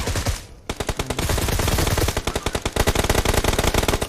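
Rapid automatic gunfire from an M762 rifle in a PUBG-style battle royale game, loud and close, with dense bursts of shots firing almost continuously after a brief gap near the start.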